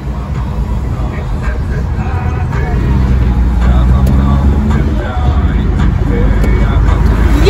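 A car drives through the Leninsky district of Nizhny Novgorod, its steady low engine and road rumble continuous and fairly loud throughout, with faint voices murmuring in the background.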